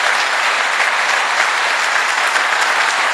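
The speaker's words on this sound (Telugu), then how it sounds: "వారికి ఒకసారి గట్టి క్లాప్." Loud, dense applause from an audience at a motivational training session, a steady unbroken wash of clapping with no talk over it.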